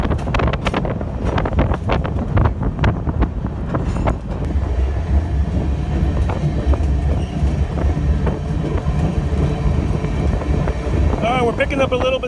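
Rail car interior rumble and clatter as a passenger train picks up speed leaving Laurel, Montana, with steady loud rolling noise and rhythmic wheel clicks, plus some wind buffeting.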